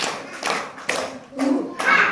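An audience claps in short patterned bursts at a Maulid Nabi religious gathering. Three or four groups of claps sound close by, with a voice calling between them.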